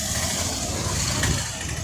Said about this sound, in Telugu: బస్సు వస్తుంది చూడు